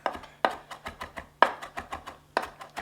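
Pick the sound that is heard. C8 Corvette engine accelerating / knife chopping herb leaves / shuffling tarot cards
knife chopping herb leaves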